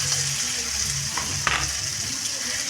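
Boiled small taro and potatoes tip into a hot oil-filled frying pan, and a loud, dense, steady sizzle follows, with a brief scrape of stirring partway through.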